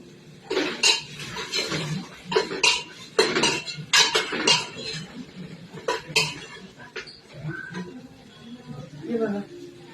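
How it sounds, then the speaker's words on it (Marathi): Turmeric- and salt-seasoned pieces being stirred and tossed in a pan, with repeated metallic scrapes and clinks of a utensil against cookware in uneven bursts, close and clear. "त्याला परतते आता."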